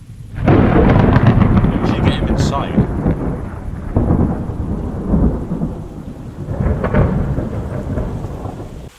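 Steady rain and a rolling thunderstorm in the medieval video game Kingdom Come: Deliverance, with a loud thunder rumble near the start and continuous rainfall throughout.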